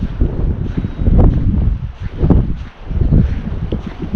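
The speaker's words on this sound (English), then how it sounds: "It's still fairly windy, but it's died down a bit now." Gusty coastal wind on the Northumberland coast buffets a microphone in rumbling surges that rise and fall, loud and close, with no voices.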